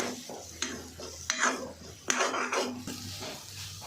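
Masala with peanuts being sautéed in a pan: a low sizzle under repeated scraping strokes of a spoon against the pan, close and fairly quiet, with no talking.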